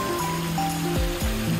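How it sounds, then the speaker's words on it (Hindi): A small mountain waterfall rushes steadily and close by, a dense continuous wash of flowing water under a hum of engine-like tones. "सो गाइस ये है वो छोटा सा वाटरफॉल"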